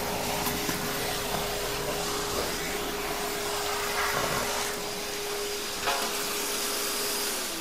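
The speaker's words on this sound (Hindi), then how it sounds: "ये देखिए 1500 का वॉट का मोटर ज़बरदस्त तरीके से कचरा खींच रहा है।" A 1500 watt MFOUR 35 litre industrial vacuum cleaner with a stainless steel tank runs at a steady, loud whine while sucking up debris, with a constant motor hum and occasional rattling bursts of material through the hose.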